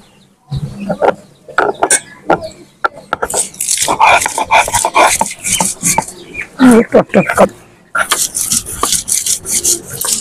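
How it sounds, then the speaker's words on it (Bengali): Green chilies are crushed into a paste for fish curry on a stone or wooden grinder, giving repeated close, rough rubbing and rasping strokes in uneven bursts, with brief pauses between runs. "বন্ধুরা আমি মাছটা রান্না করার জন্য কাঁচা মরিচ একটু বেটে নেব।"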